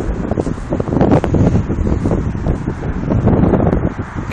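Strong outdoor wind buffets the microphone with a continuous loud rumbling roar and rustling. The gusts rise and fall with no break, and nobody speaks.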